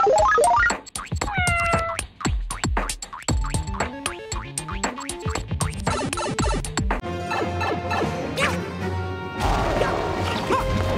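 Lego Mario interactive toy game sounds: a busy run of bright electronic beeps, jingles and chimes including a cat power-up meow effect, loud and continuous throughout with no talking.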